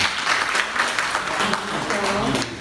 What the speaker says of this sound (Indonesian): Kasih tepuk tangan dulu, kasih tepuk tangan.